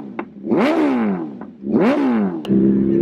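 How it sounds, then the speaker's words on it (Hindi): A loud superbike engine revs hard twice, each roar rising and falling, with sharp pops between the bursts and a rumbling idle at the end. "तो यार इतनी लाउड बाइक है, इतनी लाउड बाइक है यार।"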